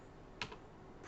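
A few quiet keystrokes on a computer keyboard while writing TypeScript code, two or three soft, close clicks over low room hiss.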